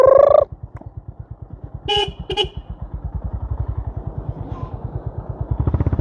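A Honda CB350RS motorcycle idles with a steady, thumping single-cylinder beat while a horn gives one short honk at the start, then two quick distant toots, with the engine pulsing throughout.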